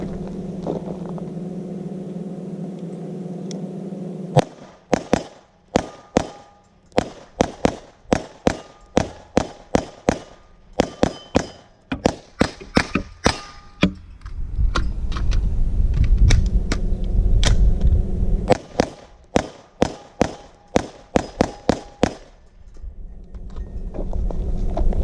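Suppressed AR57 rifle from a CMMG build kit fires a long string of sharp, evenly paced shots, several dozen in two bursts separated by a short pause, each crack standing out loud and close over a steady background hum.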